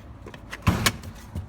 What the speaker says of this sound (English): You want to unlock your vehicle, and we want to go ahead and pop the hood open.